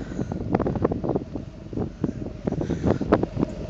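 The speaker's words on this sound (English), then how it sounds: "It's really windy out here" Gusty wind buffets the microphone outdoors beside a Cadillac Escalade in uneven rumbling bursts, loud and close, with no voices.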